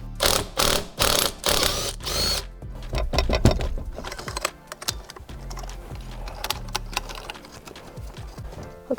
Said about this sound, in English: I'm using my Makita to get it off.